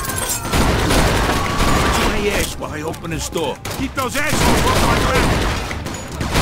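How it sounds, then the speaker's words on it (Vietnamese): Gunfire in the video game Mafia 2, with bursts of shots and booms running loudly through a chaotic shootout while characters shout over it. "Nó bắn tao kìa"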